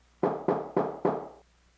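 Four sharp, evenly spaced hollow knocks, like knuckles rapping on a head, ring out close and clear, each with a short resonant decay, then silence.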